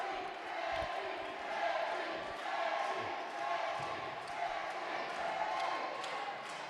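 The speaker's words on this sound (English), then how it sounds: "The crowd erupting into a Tetchi chant." A wrestling crowd at a live independent show chants a wrestler's name, a rhythmic roar of many voices that swells and repeats throughout, fairly loud and steady.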